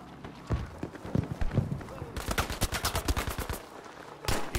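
Rapid bursts of gunfire fill a Battlefield V multiplayer match, with scattered shots and then a fast run of repeated rounds, loud and close, as players talk over it.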